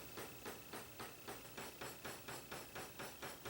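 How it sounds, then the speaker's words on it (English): A ball peen hammer pounds on the back of a knife tang to peen it over a handle, with about a dozen steady, evenly spaced metallic taps at close range and no talk. "I keep hammering the back of the tang so that it mushrooms over and locks the handle into place."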